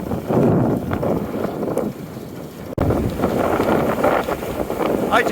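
Strong wind buffets the microphone aboard a Hunter Horizon 27 yacht sailing at speed, a loud continuous rushing roar with gusting surges, a voice talking underneath.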